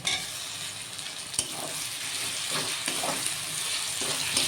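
Tomatoes go into browned onions frying in a pan for a Bengali doi chicken curry, and a steady close sizzle follows, with stirring scrapes and a sharp utensil knock.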